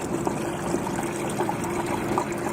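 Pool chemical poured into swimming pool water gives a soft, brief trickling splash, fairly faint and steady over a short moment, with no talking.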